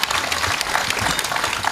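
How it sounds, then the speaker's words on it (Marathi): A crowd of women at a religious talk claps briefly, a dense patter of hands at moderate volume. "एकदा मोकळ्या टाळ्या वाजवून घ्या."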